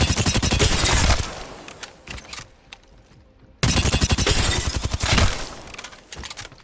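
Rapid automatic gunfire in the shooter game Apex Legends, two loud sustained bursts of tightly spaced shots separated by a quieter pause with fainter clatter.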